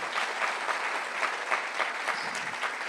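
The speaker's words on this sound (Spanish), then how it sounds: "Dale un fuerte aplauso al Señor." A church congregation claps enthusiastically during a service, a lively, continuous patter of many hands at moderate distance with faint crowd murmur beneath.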